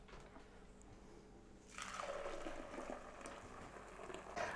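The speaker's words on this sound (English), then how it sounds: "we'll pour it through our strainer or nut milk bag" Blended nut milk is poured through a strainer or nut milk bag; after a quiet start, a sudden liquid splashing and trickling begins and continues steadily, close and fairly soft.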